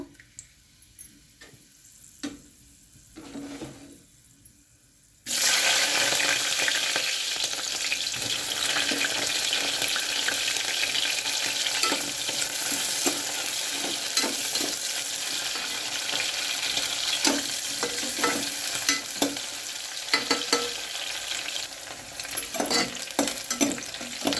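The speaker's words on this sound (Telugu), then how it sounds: "ఇదిగోండి కొన్ని మసాలాలు వేస్తున్నా బగారాకు" Whole spices tempering in hot oil for a Telugu ridge gourd and brinjal curry, starting quiet with a few ticks, then a loud steady sizzle with stirring clinks running throughout, no talking.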